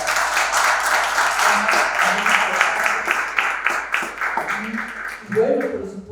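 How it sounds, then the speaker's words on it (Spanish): An audience at a book presentation applauds the co-authors, a moderate, steady round of clapping that fades toward the end as a voice begins talking. "Les pido un aplauso gigante"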